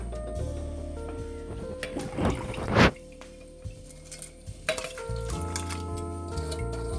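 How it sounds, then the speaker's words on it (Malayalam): Toor dal lentils being washed in a kitchen vessel for sambar: soft liquid sloshing, drips and small clinks of metal, with a sharper splash midway, close and fairly quiet over a low background hum. "ഇതാ പരിപ്പ് കഴുകിയിടാൻ പോവാണ്"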